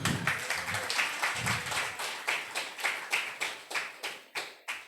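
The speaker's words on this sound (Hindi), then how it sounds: "ताली बजा" A congregation at a Christian fellowship gathering claps hands in unison, a steady rhythmic beat of sharp, evenly spaced claps that grows crisper and more distinct toward the end, with no talking.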